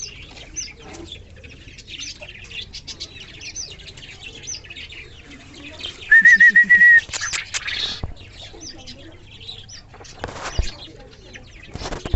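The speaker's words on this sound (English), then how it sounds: "They are active bantam chickens." Frizzle bantam chickens forage among leaves in a fairly quiet yard, giving scattered soft clucks, one clear chirp and a brief burst of wing flapping.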